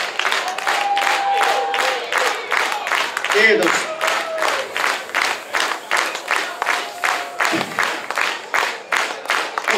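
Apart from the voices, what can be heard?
loud applause from the party crowd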